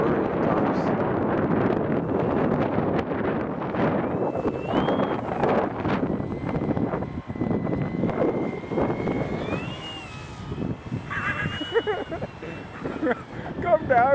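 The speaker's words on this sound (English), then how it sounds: "You can see how windy it is." Strong wind buffets the microphone with heavy low rumbling gusts, while a voice talks and the whining motor of a brushless Super Cub model plane rises and falls in the background.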